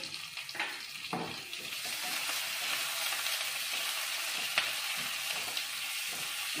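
Tomatoes and onions sautéing in a pan, a dense, continuous sizzle close by with a few soft stirring scrapes breaking through now and then.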